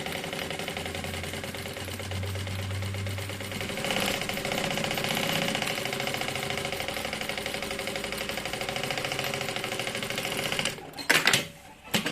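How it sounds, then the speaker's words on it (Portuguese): Sewing machine stitching a bag pocket into place, a steady close mechanical whir of the needle running continuously, ending in a few sharp clacks and rustles of the fabric. "E aí, a gente costura esse bolso no lugar."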